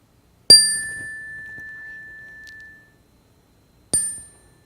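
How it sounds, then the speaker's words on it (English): A meditation bell is struck twice at the close of a meditation, each a bright metallic ding with a long ringing tone that fades slowly, the second strike shorter, in an otherwise quiet room. "gotta learn how to use this bell"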